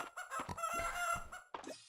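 Chickens in the farming game Fields of Mistria give a quick run of bright, close clucks and a short crow-like call, distinct squawks over quiet game background.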